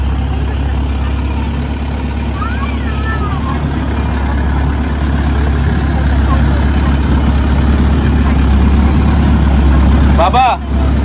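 A long-tail boat engine runs steadily off Phuket on the way to Phi Phi Island, giving a continuous low drone throughout with some background talk and a brief voice near the end.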